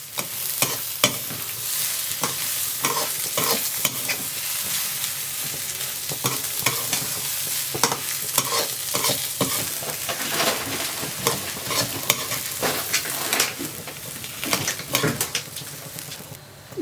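Jeera samba rice tossed with cumin in butter in a pan, a steady sizzle under repeated scraping strokes of the spoon, close and fairly loud throughout with no talking.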